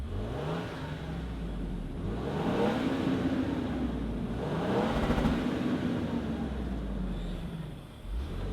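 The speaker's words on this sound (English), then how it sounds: "let's fire up this twin turbo V6 and see it roll." A 2024 Lexus GX550 Overtrail+ with a twin-turbo V6 idles and then revs up twice in smooth swelling rises, heard close and steady without talk.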